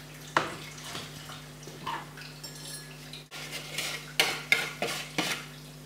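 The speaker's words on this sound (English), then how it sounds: "Mix with a whisk." Whisk stirring powder and sugar into freshly boiled water in a pot for home brewing, with soft scraping swishes and several sharp metallic clinks against the pot, close and fairly quiet.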